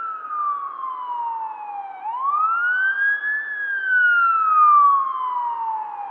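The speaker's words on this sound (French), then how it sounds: "Des camions de pompiers" A fire truck siren wails outside a hotel in Orlando, loud and close, its tone gliding down, sweeping back up, then falling again in a slow continuous cycle.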